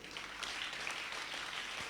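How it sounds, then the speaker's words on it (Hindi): A gathering at a Bhagavat Katha devotional program in a Gaudiya Math temple in Faridabad claps together, a steady wash of applause heard faintly and at a distance, unbroken for the whole moment. "ताली बजाओ जोर से।"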